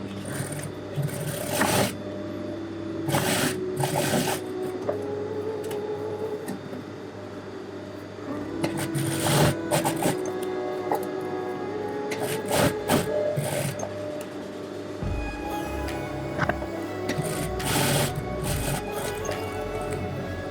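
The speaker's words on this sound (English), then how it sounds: "Basically just a long overlock." Overlock sewing machine running a long seam on a dress, a steady mechanical whirring hum in bursts with brief sharp clicks between stitching runs, heard near.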